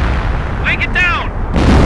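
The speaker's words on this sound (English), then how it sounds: "Commencing barrage." Artillery barrage in Company of Heroes, a WWII strategy game set in the Falaise Pocket: a dense, rumbling wash of distant blasts and noise fills the clip, with a brief voice heard over the bombardment midway.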